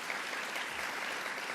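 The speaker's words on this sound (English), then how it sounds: "Let's give her a round of applause." Audience applause at an event with Governor Kathy Hochul on Long Island, a brief dense wash of many hands clapping, even and sustained.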